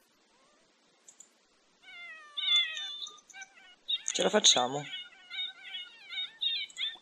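A cat in The Sims game meows repeatedly and insistently, with several drawn-out calls rising over a clearly heard voice that keeps talking throughout.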